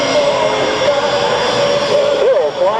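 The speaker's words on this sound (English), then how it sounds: "the incredible 117A stealth fighter" An F-117A stealth fighter jet flying at the 1996 Hamilton airshow produces a loud, steady, close jet-engine roar with a shifting tonal whine that bends near the end.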